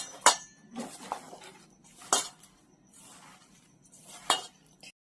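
Clinks and scrapes of a bowl and utensils while pea pakora batter is mixed by hand with salt, rice flour and gram flour in a home kitchen, irregular close bursts with quiet gaps.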